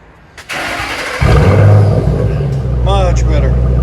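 A 2010 Ford Mustang GT with straight-piped dual exhaust starts up and settles into a loud, deep, rumbling idle close by, with a brief voice heard over the engine.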